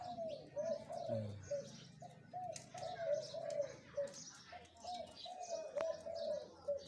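A caged decoy dove or pigeon, hung on a coconut palm in front of a house, coos repeatedly in a steady rhythmic series, close and clear, with faint chirps from other birds in the background.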